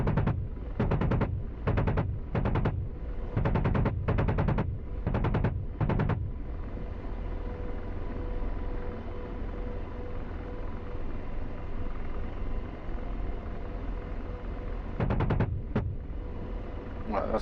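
AH-64 Apache helicopter in the DCS flight simulator firing a rapid series of missile launches as sharp, loud bursts over a steady rotor and engine drone, then a final pair of launches near the end.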